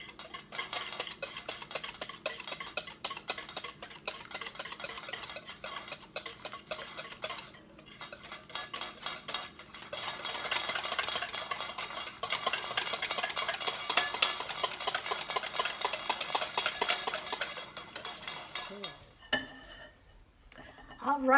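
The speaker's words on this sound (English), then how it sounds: "I'm just gonna whisk this in really slowly." Lemon curd mixture is whisked slowly in a bowl, a fast, continuous ticking clatter of wires against the bowl that runs close and steady for most of the stretch, then briefly stops near the end.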